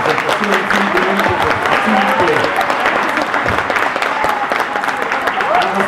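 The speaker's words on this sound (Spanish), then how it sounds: "Démosle un fuerte aplauso" A lecture audience gives a guest law professor a loud, sustained round of applause, dense clapping running steadily throughout with a murmur of voices mixed in.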